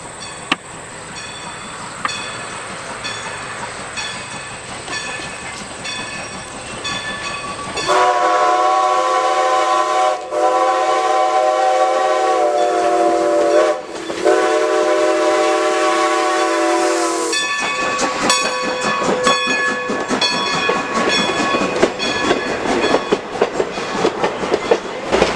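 Strasburg Railroad locomotive No. 90 climbing a grade past a property: long, loud whistle blasts sound in sequence, followed by a dense rhythmic clatter of the passing train.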